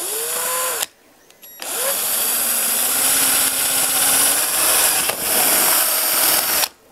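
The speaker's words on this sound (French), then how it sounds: "j'utilise une mèche de 8 pour faire les trous ici, à l'endroit où je vais mettre mes tourillons" A power drill fitted with an 8 mm bit bores dowel holes in wood, a loud high whine running in long stretches broken by short pauses as the motor stops and restarts, no talk.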